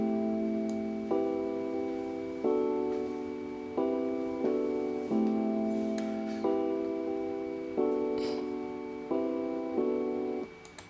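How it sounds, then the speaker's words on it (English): Electric piano carries the main chord part of a beat, sustained chords struck in a regular, repeating pattern, soft and mellow, heard alone without talk. "an electric piano"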